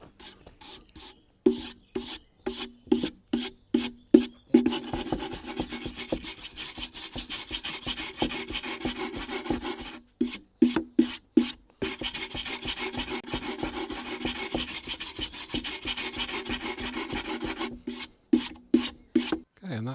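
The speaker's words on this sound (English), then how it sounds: "so I got a little brass wire brush," A small brass wire brush scrubs a wooden beehive in quick rasping strokes. Bursts of rapid back-and-forth scratching are separated by short pauses, then a long steady stretch of brushing, close and fairly loud.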